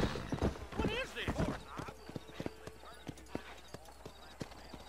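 Horse hooves clip-clop with a whinny in the Red Dead Redemption 2 video game, close and lively, with voices talking over the first half before the steady hoofbeats continue alone.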